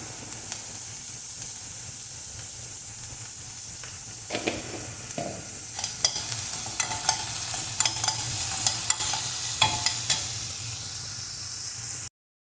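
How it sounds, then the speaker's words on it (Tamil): Soft steady sizzling of onions sautéing in a pan, with occasional scraping and stirring clicks from a spoon, quiet and close. "ஆனியன் கொஞ்சம் நல்லா வதக்கிக்கலாம்"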